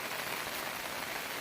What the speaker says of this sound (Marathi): पावसाला म्हणा थोडा आस्ते आस्ते या